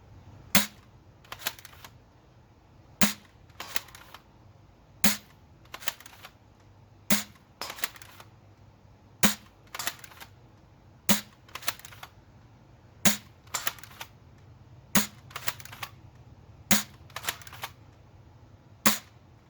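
DMR airsoft rifle firing a steady series of sharp, single shots about once a second, each crack followed by a fainter impact snap, close and alone with no talk.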